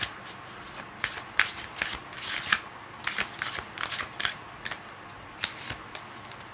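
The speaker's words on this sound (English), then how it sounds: "Let's get one card from the Moonology deck and we'll wrap this up." Cards from a Moonology oracle deck being shuffled and handled, a run of crisp riffling bursts and soft flicks in uneven clusters, close and fairly quiet, with no one speaking.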